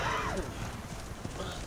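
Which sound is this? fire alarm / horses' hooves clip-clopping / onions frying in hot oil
horses' hooves clip-clopping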